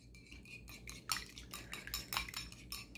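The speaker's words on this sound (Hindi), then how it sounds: "तो एक एग ले लेते हैं और उसमें पिंच चिली फ्लेक्स और पिंच सॉल्ट डाल के मिक्स कर लेते हैं इसको अच्छे से" An egg being whisked in a bowl with a pinch of chili flakes and salt, giving a quiet run of soft clinks and scrapes of utensil against dish.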